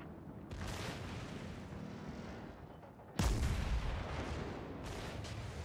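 The battleship Fuso fires its heavy guns in a naval warfare video game: a long rumbling roar, then a sharp, loud booming salvo near the middle and another lighter blast later, under steady background noise.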